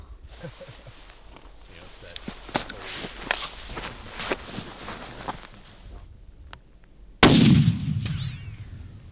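A hunting rifle fires a single loud, sharp shot while being sighted in at a target hung on antlers about 200 yards out in open country, its report ringing and fading after a stretch of quiet rustling and footsteps.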